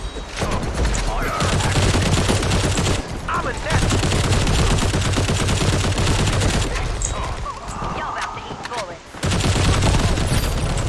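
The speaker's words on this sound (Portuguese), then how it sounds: "Onde que eu tô tomando tiro assim?" Gunfire crackles from a PC shooter game in dense bursts of rapid shots with brief gaps. A player talks over the shooting.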